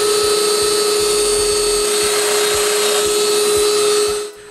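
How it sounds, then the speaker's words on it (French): A domino joiner cuts a mortise in wood for a jig, a loud, steady high-pitched motor whine with a faint oscillating chatter beneath, winding down abruptly at the end. "puis je perce la mortaise."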